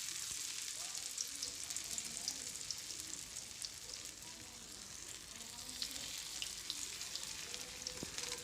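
Small onion pakoras fry in hot oil, giving a continuous, fairly quiet crackling sizzle with tiny pops throughout and no voices.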